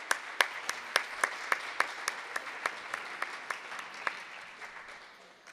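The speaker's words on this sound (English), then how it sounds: "Let's clap for Jeremy." An audience applauds hand drummer Jeremy Davis after his set at an end-of-the-line concert, with steady, fairly regular claps that gradually thin and fade.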